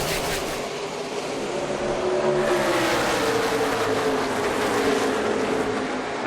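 NASCAR stock cars roar past at Dover, a loud, dense engine howl rising and sweeping in pitch as the pack accelerates away at the restart, continuous and close with no clear speech.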